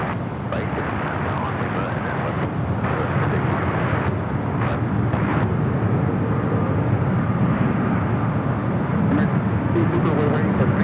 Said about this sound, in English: Possibly if Air France taking off here on the north side